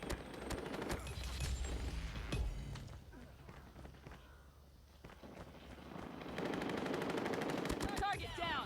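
Rapid automatic gunfire from the mobile shooter game Call of Duty Mobile, with bursts near and then farther off, a quieter stretch, then renewed shooting and game effects. A voice speaks over the gunfire.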